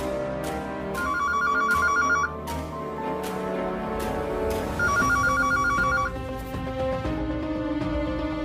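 A phone ringtone plays a repeating trilling melody in two clear rounds over background music, loud and close.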